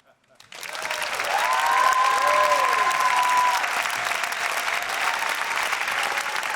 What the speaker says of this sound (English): Keep those applause coming.